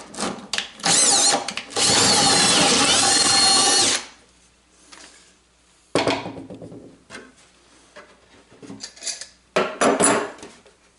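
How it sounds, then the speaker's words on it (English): An electric drill whines loudly for a couple of seconds, drilling out a part on a puzzle table, followed by shorter bursts of drilling and clinking of metal parts nearby. "So let me grab a drill and drill this out."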